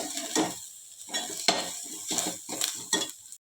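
Several short bursts of scraping and stirring onion frying in a pot, with brief sizzles and metal clinks, separated by near-silent gaps.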